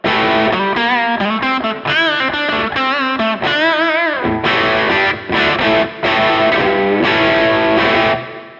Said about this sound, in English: All the reverb you're hearing is coming from the shared reverb.